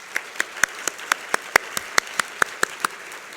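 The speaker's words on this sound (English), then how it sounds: "Everyone give them a round of applause again." Clapping at a conference general session as the audience thanks sponsors, heard as a sparse string of about fifteen separate, evenly spaced claps, close and distinct rather than a full crowd.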